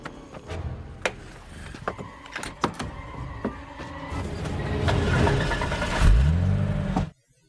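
A car in the 2003 horror film Wrong Turn pulls away with engine revving and mechanical clunks, building to a louder acceleration surge near the end before cutting off abruptly.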